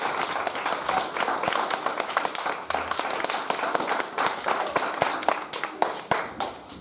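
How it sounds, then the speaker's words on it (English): A school assembly audience gives a round of applause, many hands clapping in a dense, steady patter with sharp individual claps standing out, moderately loud and continuing throughout with faint voices underneath. "Let's give you another round of applause."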